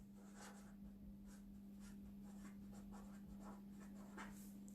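Pen or pencil writing numbers on paper during a Year 2 maths lesson, soft scratchy strokes in a steady run, close and quiet over a constant low hum, with no talking.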